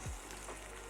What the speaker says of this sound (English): We can hear that sizzle, that's great.